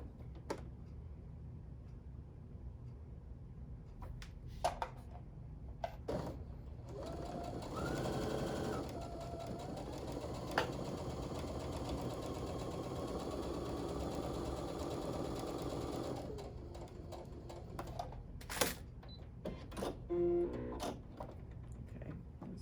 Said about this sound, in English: I'm going to sew on either side of the diagonal line.